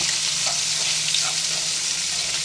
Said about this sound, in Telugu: మనం పచ్చిమిర్చి, ఆనియన్స్ వేసుకుందాం. ఇవి దోరగా వేయించుకోవాలి